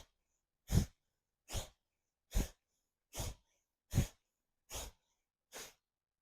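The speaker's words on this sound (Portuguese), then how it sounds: "você vai fazer uma respiração um pouquinho mais forte" Seven forceful exhalations through the mouth during a twisting breathing exercise, evenly spaced about one per second, close and loud with silence between each breath.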